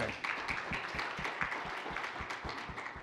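An audience at a conference conversation session claps for a few seconds, a soft, fairly distant patter of many hands with rhythmic low thumps underneath.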